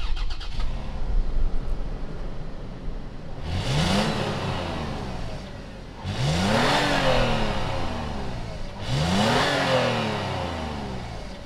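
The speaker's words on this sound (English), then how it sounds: "let's fire up this 4Runner Venture and see what it sounds like" A 2020 Toyota 4Runner Venture engine turns over and fires, then revs three times in succession, each rev swelling loud and falling back toward idle, heard from nearby outside with no talking.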